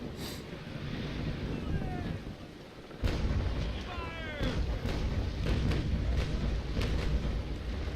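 Booming cannon shots from the naval video game Naval Action go off amid wind and rushing water, with a heavy blast midway followed by scattered bangs and a voice talking underneath.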